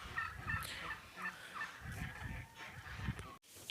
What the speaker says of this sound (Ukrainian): Гусочки ходять, гуляють собі.